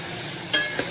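Beef with crushed garlic and ginger sizzles steadily in a pan, with a couple of brief scraping stirs cutting through the continuous frying hiss.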